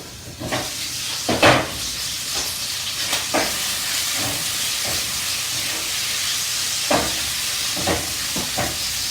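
Mild Italian sausage and chopped onion frying in a pan, a steady loud sizzle and hiss close up, broken by occasional scraping stirs and pops, with no talking.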